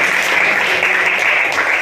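Classroom applause during a Class 10 Kannada quiz: a steady, dense patter of many hands clapping for about two seconds, fairly loud and continuous with no clear break.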